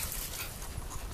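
Dog panting rapidly and close after running back on an off-leash recall, a short burst of quick breathy pants with a slight whimper.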